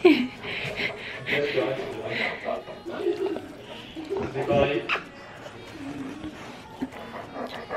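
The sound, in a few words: dog whimpering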